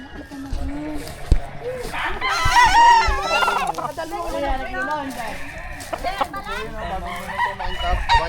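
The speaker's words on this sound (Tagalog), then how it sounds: "Ito yung mga manok nila oh." Chickens cluck and a rooster crows nearby, mixed with voices talking over the farmyard noise.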